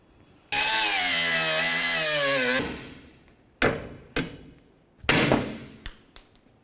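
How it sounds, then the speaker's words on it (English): A power cutting tool slices through the ball joint stud on a 2004-2006 Scion xB's lower control arm, a loud shrill whine for about two seconds, followed by several sharp metal clanks and taps close by. "continue by cutting off the stud of the ball joint"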